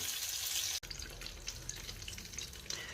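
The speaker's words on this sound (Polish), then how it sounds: "I tak na chwilę niech się to smaży." Steady crackling sizzle of fish frying in a pan, with a brief sharp break near the start and a dense, hissy texture throughout.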